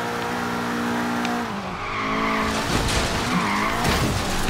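Mercedes skidding through a curve in the racing game Forza Horizon 3, engine droning steadily with tires scrubbing and squealing as the car slides, the noise swelling louder in the second half.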